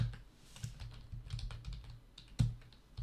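Computer keyboard typing with a steady run of close, soft key taps and one sharper clack near the end, no voices present.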